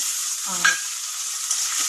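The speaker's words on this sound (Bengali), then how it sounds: "বাঁধাকপিটাকে এবার ভাজা ভাজা করবো বলে কেটে নিয়েছে পেঁয়াজ দিয়ে দিয়েছে মধ্যে পাঁচফোড়ন কাঁচা লঙ্কা কিছুটা মটরশুঁটি আর দিয়ে দিচ্ছি" Cabbage fries in a pan with onion, panch phoron, green chilli and peas, producing a constant close sizzle with a brief clank of a utensil partway through.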